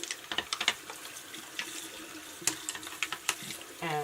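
Water from a tap splashes and patters unevenly while soap-covered makeup brushes are rubbed and rinsed, a run of close, light drips and clicks at moderate volume with no voice.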